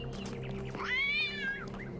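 A single drawn-out cat meow with a rising then falling pitch, heard clearly over a steady low game background hum in The Talos Principle 2.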